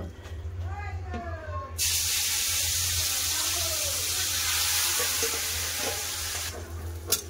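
Marinated chicken hits hot mustard oil in a heated pan, bursting into a loud, steady hiss of sizzling that holds for several seconds before easing, after a quieter stretch with a voice speaking.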